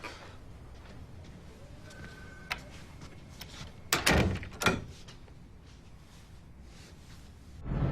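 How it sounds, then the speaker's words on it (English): A new door being handled indoors, a soft thud near the middle followed by a second knock and a louder bump at the end, fairly quiet against low background noise. "I got a new door"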